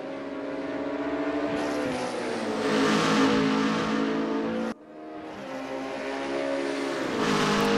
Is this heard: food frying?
no